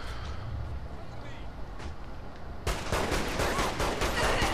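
Heavy rapid minigun fire in Saints Row The Third breaks out midway as a continuous loud rattle over earlier ambient action noise, with a voice talking over the scene.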